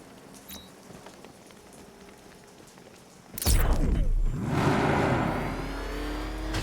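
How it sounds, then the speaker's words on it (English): Heavy rain in the video game Batman: Arkham Knight hisses faintly at first, then bursts into a loud, dense downpour that stays steady, mixed with a vehicle-like roar. "What's with all the rain?"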